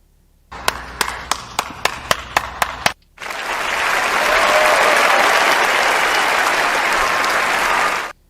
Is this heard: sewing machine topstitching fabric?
no